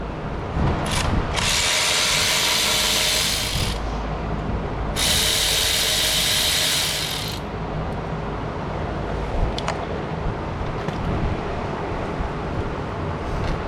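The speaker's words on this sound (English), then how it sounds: "we're going to remove the 2 10mm bolts right here" A ratchet works on the 10mm bolts of a Honda Civic EGR valve housing, giving two loud, sustained bursts of harsh mechanical whirring close up, with clanking and handling noise around them.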